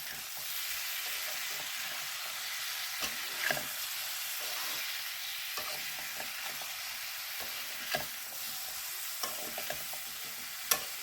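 Powdered salt, cumin, coriander, turmeric and chili being stirred together, a steady soft scraping and rustle throughout with a few sharper clicks of utensil against the bowl, fairly close and without talk.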